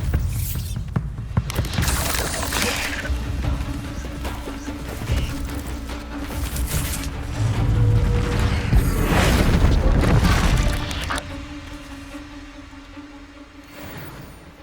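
A Bombarda blasting spell explodes in the video game Hogwarts Legacy, a heavy booming blast rising into a loud rumbling swell around the middle and fading near the end, layered with crashing debris and game effects.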